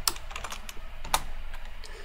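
Fingers tap out code on a computer keyboard in quick, uneven bursts of crisp clicks, close and clear with no talking.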